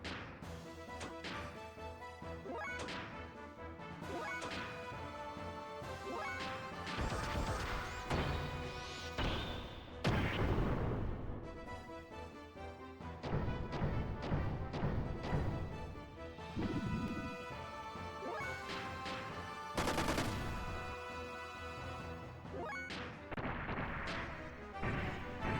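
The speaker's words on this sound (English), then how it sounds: "One of the Yggdrasil's missiles." A Yggdrasil torpedo missile strike in the video game Xenogears: a long, dense barrage of booming blasts and crashing impacts layered with bright metallic bursts, loud and sustained for about twenty-five seconds.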